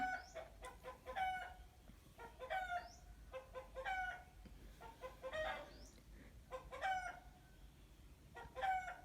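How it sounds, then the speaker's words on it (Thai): A rooster crows several times in a row, with hens clucking around it, all somewhat distant and quiet. "ขออภัยนะคะ เสียงไก่"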